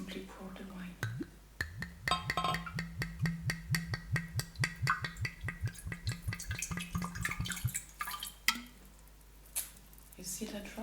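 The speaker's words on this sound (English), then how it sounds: "And then I will simply pour the wine." Wine poured into a glass, a soft gurgling trickle with rapid glugging pulses lasting several seconds, close and quiet, with faint whispered speech around it and a light clink near the end.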